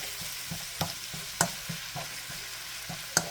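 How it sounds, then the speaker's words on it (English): Meat browning with onion and garlic in a pan, a steady sizzle under a string of spatula taps and scrapes in a loose rhythm, a few of them sharper and louder. "let me go ahead and get this all sauteed up and browned"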